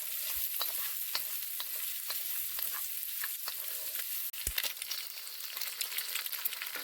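Spam cubes fry over high heat with constant stirring for low-carb fried rice, making a steady soft sizzle with frequent light spatula scrapes and taps throughout.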